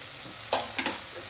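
Softened onions frying with coriander powder in a pan for chickpea kurma, a steady soft sizzle broken by a couple of brief spoon stirs and scrapes, close and fairly quiet, with no talking.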